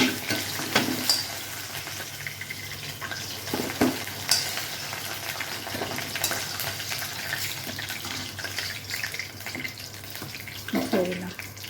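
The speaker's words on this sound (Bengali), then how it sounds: "আলুগুলোকে এখন লাল লাল করে ভেজে নেব" Steady oil sizzle of potatoes frying in a pan, with occasional clatters and stirring scrapes, and a faint voice here and there.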